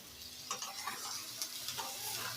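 Eggs and potatoes frying in spice masala in a pan, being stirred: a faint steady sizzle with soft scraping strokes of a spoon at an even pace.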